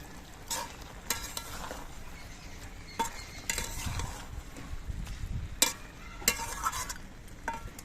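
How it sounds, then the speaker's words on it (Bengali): Fried amudi fish is gently stirred in a pan for a spring-onion chorchori, with soft scrapes and occasional metallic clinks of the spatula over a faint, low frying sizzle. "মাছ দিয়ে খুব আস্তে আস্তে নেড়ে চেড়ে মিশিয়ে দিতে হবে"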